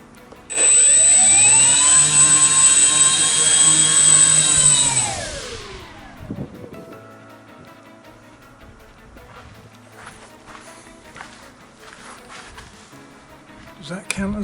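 The electric motor of a Tasman RC plane whines loudly and steadily with a high-pitched tone for several seconds during a taxi run, then spools down and fades, leaving faint handling noises and light clicks.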